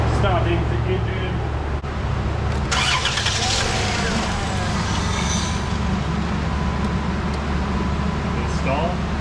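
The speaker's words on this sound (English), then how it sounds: "Starting the engine." A Dodge Chrysler Grand Caravan engine cranks and catches, then settles into a steady loud idle rumble that runs throughout, with some clatter and a voice briefly over it.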